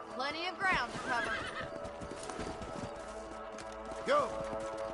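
Horses in the Red Dead Redemption video game whinny loudly twice while hooves clip-clop rhythmically underneath, close and prominent throughout the short stretch.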